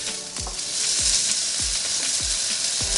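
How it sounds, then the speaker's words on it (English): Sizzling hot wings, cooked from frozen, crackle steadily in a Nuwave Primo grill oven at 400 degrees as they are flipped one by one, with several thumps and scrapes from the turning over the close hiss. "I want to get in here now and flip them now after 10 minutes"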